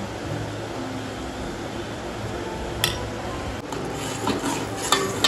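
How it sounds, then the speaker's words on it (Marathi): A spoon stirs thick jilebi batter made with curd in a bowl, breaking up lumps with a steady, soft scraping and squishing, close up, with a few light clinks of utensil against the bowl near the end. "चांगलं मिक्स करून घ्यायचंय। अशा गाठी दिसतात ना, ते सगळे आपल्याला गाठी फोडून घ्यायच्या।"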